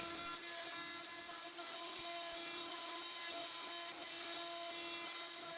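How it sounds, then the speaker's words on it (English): A desktop 4030 CNC with upgraded motors cuts letters 15mm deep into wood and epoxy, producing a constant high whine of the spindle, steady and fairly faint throughout. "I'm cutting 15mm deep the letters to my channel name, overlapping the epoxy on purpose"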